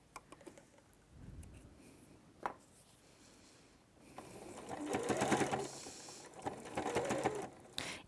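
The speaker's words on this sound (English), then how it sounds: "you are going to sew over the same seam again, being a continuous loop" A sewing machine stitches back over the seam of a drawstring bag, quiet ticks and clicks giving way to bursts of rapid, steady whirring from the motor.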